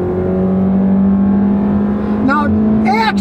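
A 2017 Honda Civic with a CVT pulls away from a stop at full throttle, its engine holding a steady, smooth drone close by with no distinct gear shifts, and a voice breaks in briefly near the end.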